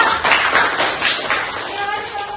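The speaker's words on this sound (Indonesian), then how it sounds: "Kalau tidak ada kita kasih tepuk tangan yang meriah." Students in a classroom clap in a steady, dense round of applause, close and fairly loud, with voices talking over it.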